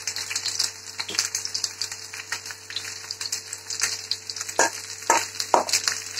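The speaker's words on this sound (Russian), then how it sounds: "Ну, мы вот таким образом жарим." Chopped chicken breast cutlets fry in a hot pan with a continuous close sizzle, broken by frequent sharp crackles and pops of spattering oil.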